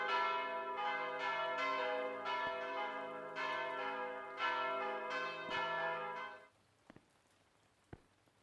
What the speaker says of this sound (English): Damn, them bells are loud.